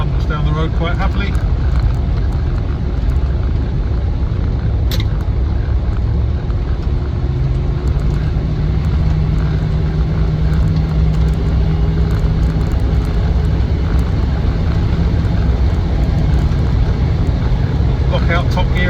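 Land Rover Defender 90 cruising on an open road, a steady loud engine drone with road and wind noise running continuously throughout, no talking present.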